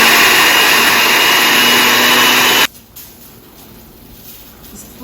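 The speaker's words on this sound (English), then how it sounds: "I'm going to actually blend that now before I add the other ingredients" A kitchen blender whirs loudly and steadily while blending tomatillos and white onion for salsa verde, then shuts off abruptly halfway, leaving a quiet room.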